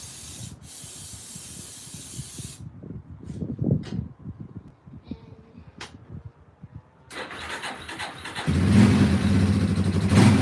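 Short hissing bursts of starting fluid sprayed onto the air filter of a Yamaha Warrior YFM350 ATV, with soft handling noises, followed by the engine cranking and catching into a loud, rough running drone.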